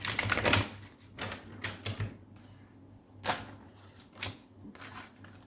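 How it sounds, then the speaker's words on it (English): Tarot cards are shuffled in quick, uneven riffling bursts, with a few soft taps in between, close by and fairly quiet. "That was sloppy shuffling"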